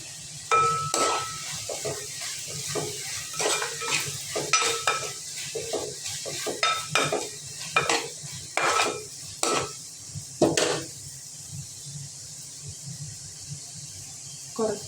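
Green chillies and curry leaves stir-frying in a pan for a Kerala-style chicken curry, with a steady close sizzle and repeated sharp scrapes and clinks of a spoon against the pan, no talking.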